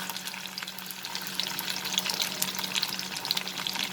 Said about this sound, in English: I'll just fry the okra so that it gets little fried and it will not be very slimy